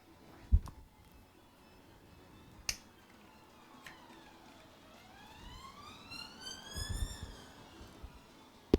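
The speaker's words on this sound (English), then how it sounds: "That's another ambulance." Ambulance siren rising and falling in a sweeping wail, moderately distant, with sharp clicks and desk noises around it during an overclocking livestream.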